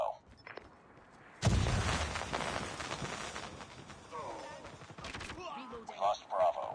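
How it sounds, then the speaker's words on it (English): A hostile sentry gun fires in a first-person shooter game, a burst of rapid loud gunfire erupting after a quiet start and continuing amid game sound effects and radio chatter. "Hostile sentry gun in your AO."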